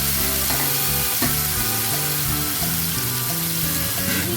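Fish coated in mustard paste sizzles in hot oil with green chillies, a loud, steady crackling fry that continues without pause, close up and with no talk.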